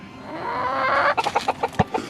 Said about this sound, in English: They are just being chickens